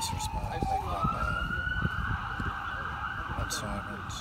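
A siren wails close by, its pitch sweeping upward and then holding, over a rumbling street background.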